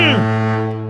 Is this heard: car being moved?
no